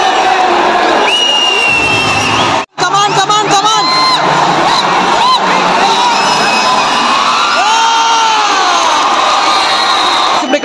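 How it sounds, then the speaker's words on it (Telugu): Loud, continuous cheering and shouting fills a Pro Kabaddi League season 10 stadium during Telugu Titans against UP Yoddhas. A brief dip comes early, then whoops and yells rise again over the steady roar of the crowd. "స్టేడియం మొత్తం అరుపులతో నిండిపోయింది ఈరోజు మాత్రం"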